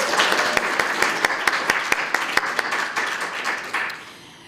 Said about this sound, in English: So one more round of applause, please, to Tamar, Zella, and the entire group